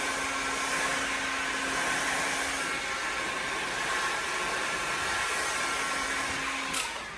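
A heat gun blows a steady, loud broadband hiss while warming a Showa Big Piston fork part from a KTM-style EBR 1190 service, kept gentle so the plastic piston ring survives, running unbroken for several seconds before cutting off abruptly.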